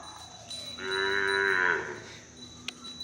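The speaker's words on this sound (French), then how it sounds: "Il y a une vache." A single cow in Thailand lets out one drawn-out low moo that rises and fades, moderately close over faint outdoor background noise, with no talking.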